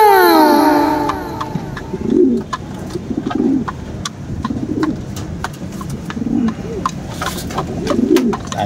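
Racing pigeons coo nearby in repeated low, throaty bursts, with sharp clicks and a brief high whistle early on.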